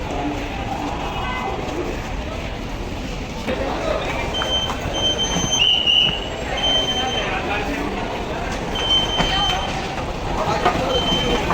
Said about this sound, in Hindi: तो ये रहा न्यू दिल्ली रेलवे स्टेशन